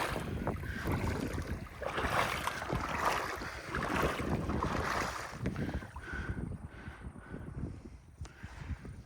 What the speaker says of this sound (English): Now let's wade in.